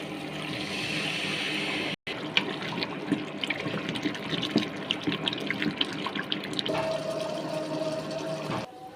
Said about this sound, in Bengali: এখন ঝোলের জন্য পানি দিয়ে দেব